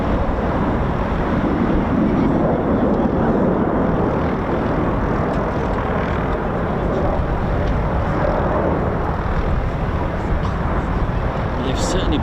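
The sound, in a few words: Eurofighter EF2000 jet aircraft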